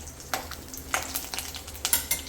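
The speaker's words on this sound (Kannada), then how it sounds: "ಸ್ವಲ್ಪ ಲೈಟಾಗಿ ಫ್ರೈ ಆದರೆ ಸಾಕು, ಯಾಕೆಂದರೆ ನಾವು ರವೆಯಲ್ಲೂ ಕೂಡ ಫ್ರೈ ಮಾಡ್ತೀವಿ" Cashews and raisins fry lightly in a pan for kesaribath, giving a soft, steady sizzle broken by several scraping stirs of a spoon against the pan.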